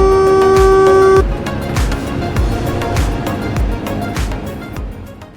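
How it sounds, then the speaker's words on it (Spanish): Train horn sounding at a whistle signal on a British railway in Train Sim World, one loud sustained blast, then rhythmic wheel clatter and rumble as the train rolls on. "Indica que al paso por esta señal debemos tocar la bocina del tren."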